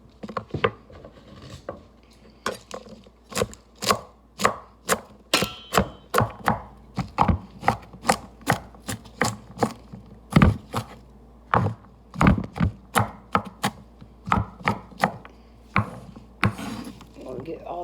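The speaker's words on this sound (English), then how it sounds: "We'll get all the chopping done." Steady knife chopping on a cutting board, a long run of sharp, evenly spaced thuds close by, with a few brief pauses.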